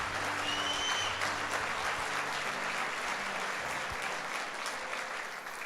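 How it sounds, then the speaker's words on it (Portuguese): A church congregation at a Sunday service applauds, a broad, even wash of many hands clapping at moderate level, slightly distant in a large room, tapering off at the end. "dá um aplauso aí"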